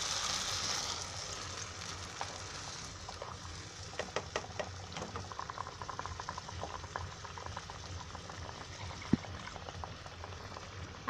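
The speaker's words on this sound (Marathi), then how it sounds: "आता मी भांड्यात पाणी घेतलं आहे ते ओतते." Water poured into a pot of fish curry masala for a salmon (rawas) kalvan: a rushing pour at first that settles into bubbling and sizzling, with scattered pops and a faint clink, close and alone.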